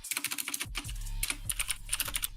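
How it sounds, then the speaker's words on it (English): Rapid, loud clicky typing on a computer keyboard, dense keystrokes close up with a brief pause partway through, no voices. "My keyboard is loud and clicky clacky."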